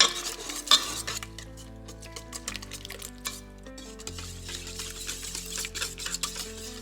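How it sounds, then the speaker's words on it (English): A spoon stirring sourdough starter mixture in a bowl before flour goes in, soft scraping and clinks of utensil against the dish, faint and close, with steady background music. "I'm giving everything a nice stir before adding in our flour"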